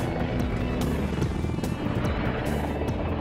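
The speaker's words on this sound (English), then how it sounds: "And the Augusta Westland EH-101." AgustaWestland EH-101, a large military helicopter, heard as a steady, loud rotor and turbine roar with continuous broadband rumble throughout, no voices.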